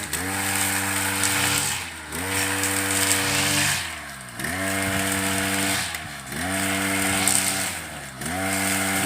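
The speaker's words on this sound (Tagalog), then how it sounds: "Pwede na siya mag-grass cutter." A grass cutter engine drones loudly and steadily, dipping briefly every couple of seconds as the throttle eases off, then roaring back up.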